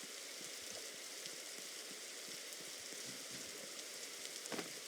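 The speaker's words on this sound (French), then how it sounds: "Et voilà, il commence encore à pleuvoir." Steady rain falls in a Roblox survival game set in a forest at night, a soft continuous hiss of drops spread evenly through the clip with a brief brighter patter near the end, and no talking.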